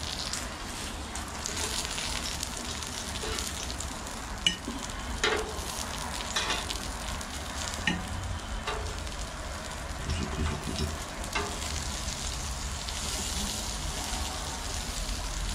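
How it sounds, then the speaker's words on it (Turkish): Sucuk sausages frying in a pan on an indoor smokeless Florabest grill, with steady close sizzling and crackling throughout and occasional stirring clicks. "Sucukları tavaya alayım ben."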